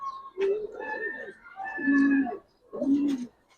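A Giribaz pigeon gives three low, rounded coos in short bursts with brief pauses between them, close by, with a voice faintly mixed in.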